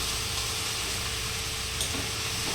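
Ridge gourd sautéing in a pan, giving a steady, close broadband sizzle that holds at an even level throughout, with no voices over it.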